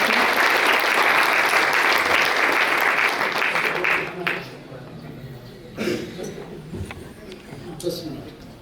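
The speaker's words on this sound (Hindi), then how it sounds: "तालियों के साथ श्री वीरेंद्र पांडे जी का स्वागत करें।" A crowd at a gathering applauds to welcome Shri Virendra Pandey: a loud, dense wash of clapping for about four seconds that fades into a few sparse claps as a voice resumes.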